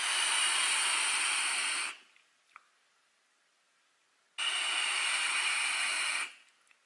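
Two long, steady hissing draws on a Smoktech TFV8 Big Baby tank with a T6 Core coil at 70 watts, each about two seconds, separated by near-silence with a faint click.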